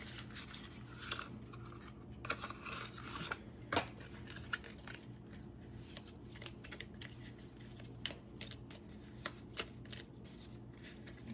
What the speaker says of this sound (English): let me find an oracle card real quick.